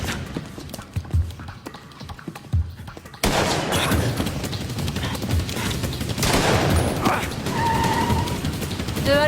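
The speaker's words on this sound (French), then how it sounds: "je signale des coups de feu très près du 18-166 San Fernando" Gunfire in a TV drama: scattered sharp shots at first, then a dense burst of rapid firing and chaotic noise that carries on loudly for several seconds.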